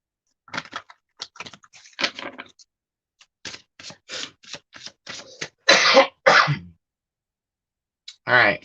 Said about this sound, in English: I've been coughing all day.